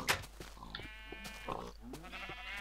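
Sheep in Minecraft bleat several times in a row, wavering calls close by over a low steady background, with no talk.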